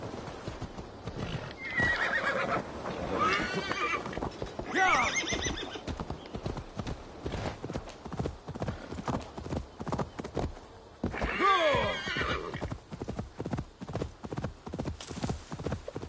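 A horse in Assassin's Creed Valhalla whinnies several times over a steady, continuous clip-clop of hooves, the neighs rising loud and close at intervals.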